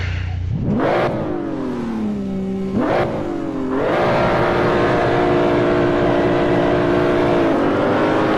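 BMW Z4 engine in a racing video game revving hard at a race launch: two sharp rising revs with gear-shift dips, then a steady loud sustained drone near the limiter, with no talk over it.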